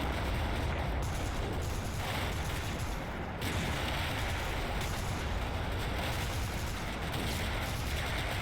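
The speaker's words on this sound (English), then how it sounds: "They crest and come under heavy fire, including an M5 at range." A World War II battle in Italy in the Combat Mission: Fortress Italy game, with heavy small-arms fire and artillery from an M5: a dense, unbroken roar of distant gunfire and explosions.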